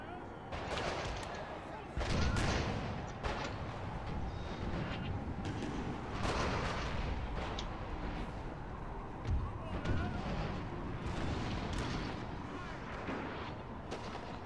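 Battle in Napoleon: Total War, with repeated cannon and artillery blasts and musket volleys booming over a dense, continuous roar of gunfire, while someone talks in between.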